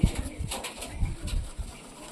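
Pigeons in a loft give soft, low cooing and brief wing flutters, close by and continuous, with no talk over them.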